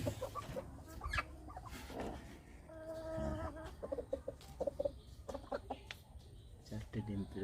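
Chickens cluck inside a hen box holding eggs, a mix of short clucks and a brief warbling call mid-clip, close and moderately loud, with background rustling and a person talking at times.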